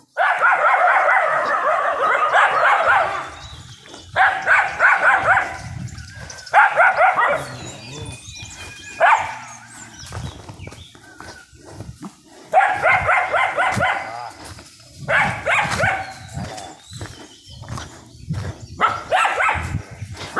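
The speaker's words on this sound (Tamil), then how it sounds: "பாதுகாப்புக்கு நிறைய நாய்கள் இருக்கு, குட்டி குட்டி நாய் நிறைய இருக்கும் போல இருக்கு" Several dogs, some of them small puppies, bark at a remote family home deep in elephant country, in repeated bursts of rapid yapping and barking that pause and resume, loud and close throughout.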